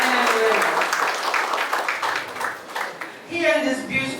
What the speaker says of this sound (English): please give him an applause again for this phenomenal young man and women.